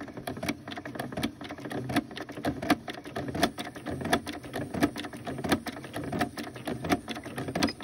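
A sewing machine stitching rope into a rope cup, running in a quick regular rhythm of mechanical clicks and thumps with a soft motor whir underneath, close and moderately quiet with no talking.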